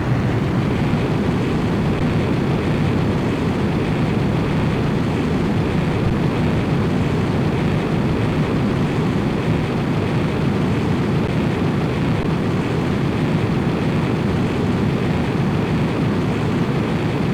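A jet fighter takes off in the Ace Combat video game, a loud, steady engine roar that holds without pause from start to finish.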